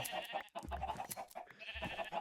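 Sheep bleat in a farming video game, a few short bleats over a steady, busy game backdrop of music and ambient sound.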